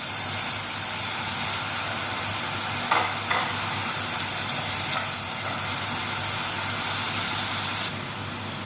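Onions frying in boiling oil for a rice dish give a steady, loud sizzle and hiss close by, with brief stirring clatters around the middle and no talking.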